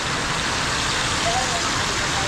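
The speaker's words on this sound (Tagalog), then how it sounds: "Grabe ulan na eh." Dense, steady hiss of heavy rain pouring continuously, loud and close, with a faint voice briefly audible underneath.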